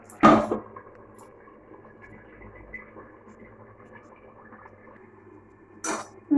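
A metal lid clanks onto a pot of cooking potatoes, one sharp close clink at the start and another near the end, with a low stove hum between.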